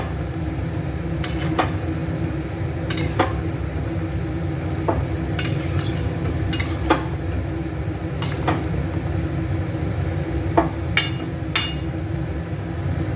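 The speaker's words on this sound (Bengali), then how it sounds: "এভাবে খানিকক্ষণ আমি নাড়াচাড়া করতে থাকবো।" Meat being stirred in a pan over a steady low sizzle, with occasional sharp clicks and scrapes of a spoon against the metal, close and fairly quiet, no talking.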